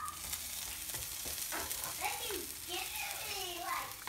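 An omelet frying on a home stove: a low, steady sizzle with occasional scraping, while someone talks over it at close range.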